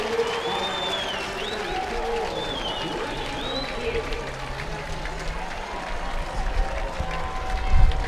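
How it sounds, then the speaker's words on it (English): A hockey arena crowd roars and applauds on its feet after a goal, a sustained wash of cheering with whistles and horn-like tones, while a play-by-play commentator talks over it. "Crowd on their feet here at Koskinen."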